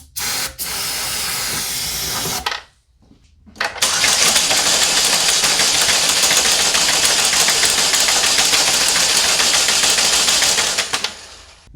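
A 2012 Chevrolet Malibu with a P0341 fault cranks after flammable spray goes down the throttle body: a harsh spray hiss, a brief gap, then a long, loud, steady mechanical churn that stops abruptly.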